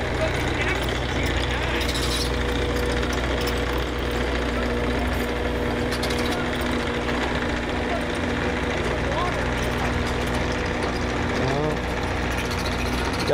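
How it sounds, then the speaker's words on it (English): A backhoe engine idles at a renovation dig site, a steady low rumble running throughout with a faint whine, while someone talks over it. "Another backhoe."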